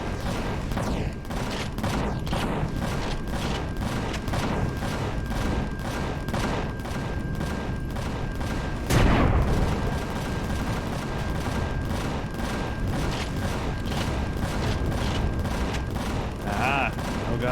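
An alien ship in the space survival game Empyrion Galactic Survival fires lasers as a loud, dense run of rapid shots over steady rumble, with one heavier blast midway and a voice talking at times.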